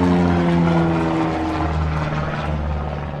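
Low-flying propeller aircraft passing close overhead near Notre-Dame-des-Landes, a loud steady engine drone with a falling pitch as it moves past, fading slightly toward the end.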